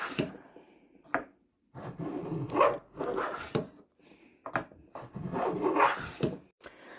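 A Record 043 plane takes hefty wood shavings in repeated close strokes, each a rough, ripping rasp separated by brief pauses, fairly loud and uneven in rhythm.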